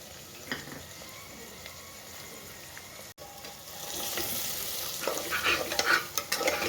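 Spices for paneer sabzi, including turmeric, coriander-cumin, garam masala and red chilli, being stirred and fried in a pan: soft sizzling with scraping stirs that grow busier and louder in the second half.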